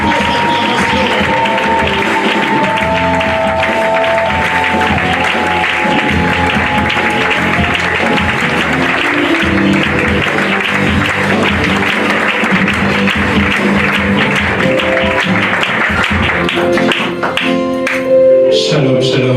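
A church assembly acclaims arriving clergy including a bishop at an opening-night gathering: a loud, continuous wash of applause and crowd acclamation, mixed with sustained musical tones and swelling slightly toward the end.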